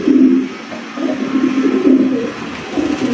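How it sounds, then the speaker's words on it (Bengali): Red Stager fancy pigeons in a cage give loud, close, repeated low cooing calls in a continuous rolling run of throaty notes. "দেখেন লাল কালারের একজন স্টেজার কবুতর"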